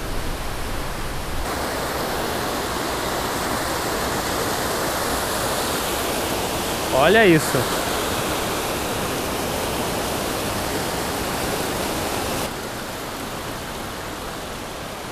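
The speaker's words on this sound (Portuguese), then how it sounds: "Então aqui é a cachoeira da Arós." Cachoeira da Arós, a shallow waterfall in Alfredo Chaves, Espírito Santo, gives a steady, dense broadband rush close by, with a brief spoken voice over it midway.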